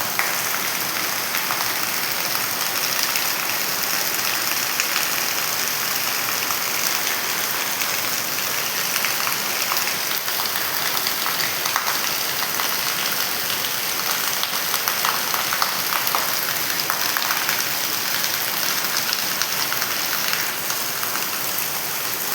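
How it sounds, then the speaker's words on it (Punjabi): Heavy monsoon rain pours down on mud-roofed houses in Raikot, Ludhiana, with roof drain spouts running; a dense, steady, close hiss holds unbroken throughout with no voices. "ਪੂਰਾ ਮੀਂਹ ਪੈ ਰਿਹਾ ਪੂਰਾ ਜੋਰਾਂ ਤੇ"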